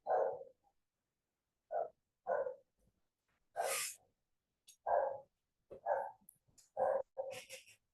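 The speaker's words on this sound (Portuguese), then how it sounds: "A mesma coisa, tem um cachorro latindo." A dog barks repeatedly in short, evenly spaced bursts over several seconds, picked up faintly in the background through an open microphone during a meeting.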